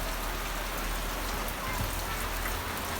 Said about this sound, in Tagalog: Ulan-ulan na po siya guys.